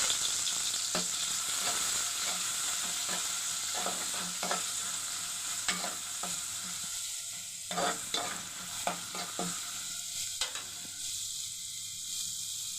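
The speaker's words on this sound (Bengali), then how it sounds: "আমি পেঁয়াজ কুচি দিয়ে দিলাম, রসুন কুচি দিয়ে নিলাম, টমেটো কুচি দিয়ে নিলাম।" Chopped onion, garlic and tomato fry steadily in a pan for a beef kala bhuna, a continuous close sizzle broken by repeated stirring scrapes and clicks, with no talking.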